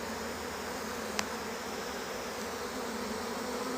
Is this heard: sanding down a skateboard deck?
no